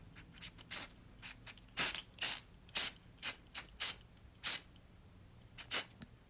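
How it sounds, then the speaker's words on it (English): A Rust-Oleum matte finish aerosol can hisses in a dozen short, sharp spray bursts at an uneven rhythm, close up, with quiet pauses between. "I'm taking this Rust-Oleum matte finish and spraying it directly on the designs."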